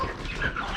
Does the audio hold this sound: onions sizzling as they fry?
no